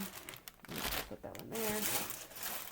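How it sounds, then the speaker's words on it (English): Packaging crinkled and rustled by hand in crisp, irregular bursts, close and fairly quiet, alongside faint talking. "sorry for the crinkling."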